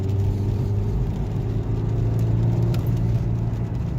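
A Vauxhall Astra Sports Tourer's 1.3-litre turbo diesel engine drones steadily under acceleration with a low rumble and whir, a continuous close hum that holds fairly even rather than surging.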